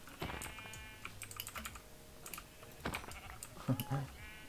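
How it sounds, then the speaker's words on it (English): A screaming goat in Minecraft gives short, harsh bleating cries near the end, mixed with brief sheep-like bleats, over steady computer keyboard typing and clicking. "There's a screaming goat here."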